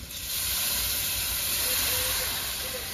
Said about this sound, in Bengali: বন্ধুরা এবারে জল দিয়ে দেবো, আমি গরম জল দিচ্ছি